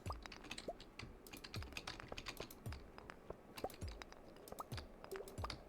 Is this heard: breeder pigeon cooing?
no